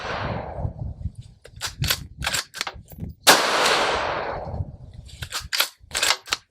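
A 2024-era Ruger Predator Generation II rifle in .223 Rem fires at a 100-yard target outdoors in the cold. Several sharp, close cracks ring out, with one loud blast trailing off in a long, rolling echo.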